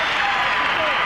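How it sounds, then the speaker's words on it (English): Basketball arena crowd cheering and applauding as the Pistons leave the court late in a Bulls game, a dense, loud wash of roaring voices filling the short moment. "the crowd is cheering here for the Bulls right now and the Pistons as they leave the court"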